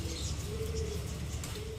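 Home-kept flying pigeons, high-flying Madras birds, give a low steady murmur of cooing from a loft, continuous and faint, with occasional soft higher chirps.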